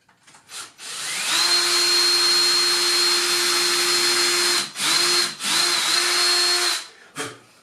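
A power drill with a depth-set bit drills holes in a wooden box, whining loudly and steadily for several seconds, with a few brief stops and restarts near the end.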